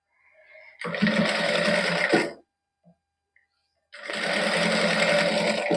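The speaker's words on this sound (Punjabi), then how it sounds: "ਉੱਪਰ ਸਲਾਈ ਲਾਉਣ ਲੱਗ ਜਾਣੀ" Sewing machine stitching lace onto the hem of an embroidered suit, running in two steady, loud whirring bursts of about one and a half seconds each, separated by a short pause with light handling clicks.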